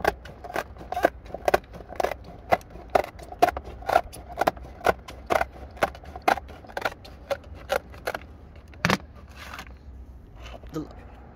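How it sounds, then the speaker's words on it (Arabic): Ordinary sheet metal shears cut thin stone veneer in a run of sharp, crisp snips at an irregular but steady pace, close and clear over a quiet background. "ده مقص صاج عادي،"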